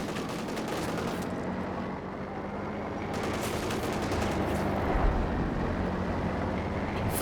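B4 howitzer and other artillery fire from the Company of Heroes 2 strategy game, heard as a dense, continuous rumble of booms and distant gunfire with no distinct single shots standing out.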